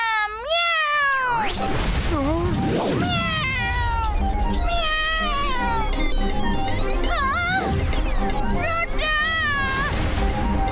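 A voice imitates a cat, letting out a long string of loud, drawn-out meows and yowls close by, with a brief crash early on.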